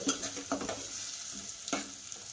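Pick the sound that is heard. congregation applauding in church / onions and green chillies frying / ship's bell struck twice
onions and green chillies frying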